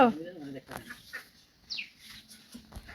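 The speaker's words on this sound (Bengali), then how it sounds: "মুরগি বাচ্চাগুলো" Chicken chicks cluck and peep in a rural Bengali home, with a burst of high chirps at the start, then softer intermittent calls under background voices.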